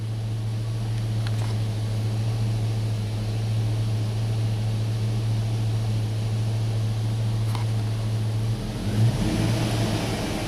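A Chevy engine runs with a steady, loud low drone, staying even throughout and shifting slightly near the end.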